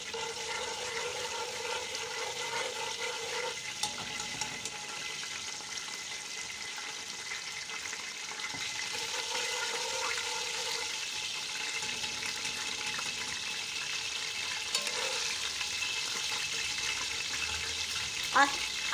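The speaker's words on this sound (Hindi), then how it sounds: "जैसे ही ऑयल गर्म हो जाए इसमें ये ज़ीरा डाल देना है" Cumin seeds frying in hot oil for chane bhature give off a steady, close sizzling hiss that runs the whole time with little change.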